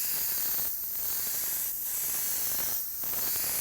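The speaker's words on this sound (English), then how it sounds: "I keep spraying a little. I want to spray it, make sure it dries." An airbrush hisses steadily as it sprays candy violet paint, with three brief dips where the spray pauses between short passes, close and fairly quiet.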